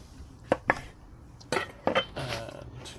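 Knife slicing through bacon-wrapped mince rolls on a board for a barbecue, giving several sharp separate cuts and taps at close range, with a few quieter scrapes and no talking.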